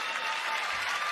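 Audience applause during a George Carlin stand-up comedy recording, a dense, steady wash of clapping from a live crowd, sustained and fairly even throughout with no voices on top.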